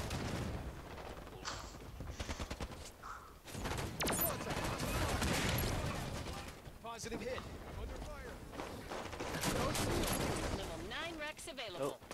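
Dense gunfire from the video game Halo 5 in Warzone mode rattles almost nonstop, layered with bursts, booms and game effects at a loud, steady level throughout.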